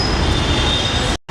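A metro train runs on its rails at Sakinaka station, a steady loud rumble with a faint high wheel whine that cuts off abruptly near the end.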